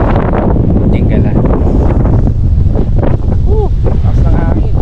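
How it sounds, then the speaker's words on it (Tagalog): Strong wind batters the microphone on the seashore at Dingalan, Aurora, a loud continuous rumbling roar with gusts, while a voice speaks briefly through it. "Taas ng hangin"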